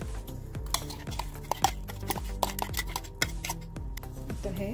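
A spoon stirs mutton with turmeric, salt, curd and green paste in a metal vessel, giving repeated scraping clinks and rhythmic knocks against the pot throughout, close and distinct with no voices.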